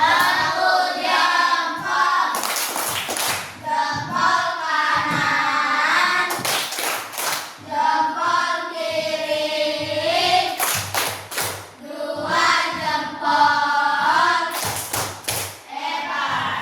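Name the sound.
children doing a thumb clap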